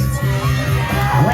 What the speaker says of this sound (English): Get ready to make some noise of encouragement.